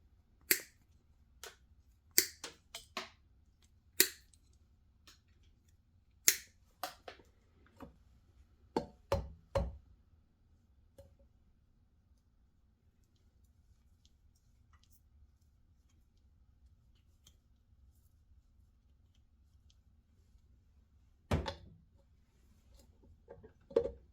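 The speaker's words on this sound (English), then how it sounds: "Just take some snips, and you're just going to trim them off." Snips clip the small nipples off rubber cush drives while a GSXR600 rear wheel is mounted on a Suzuki SV650, with a series of sharp, close snaps and clicks in an irregular run, then a quiet gap before two final cuts.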